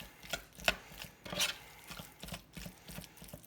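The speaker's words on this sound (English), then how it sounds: "So mix it up, get it incorporated really well." A spoon works through a thick buffalo chicken dip in a bowl, making a close series of irregular scraping and clacking strokes with quiet gaps between them.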